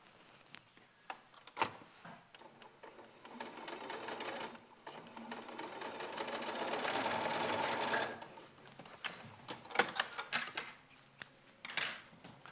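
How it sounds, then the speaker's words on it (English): A sewing machine stitches along one side of fabric, running in short bursts, then a longer steady whir in the middle before pausing and restarting with ticking stops at the corners. "So I'm pausing at the corners, pivoting it round. I'll just sew up this side."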